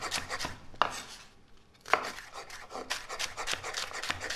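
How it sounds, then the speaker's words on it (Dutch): Rapid, steady knife chopping of leek on a cutting board, crisp repeated taps close by, with two sharper strikes standing out. "Dus de prei fijn snijden in een grove paysan."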